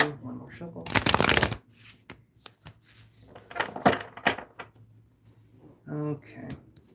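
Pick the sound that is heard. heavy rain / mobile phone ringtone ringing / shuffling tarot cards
shuffling tarot cards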